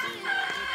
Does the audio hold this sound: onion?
no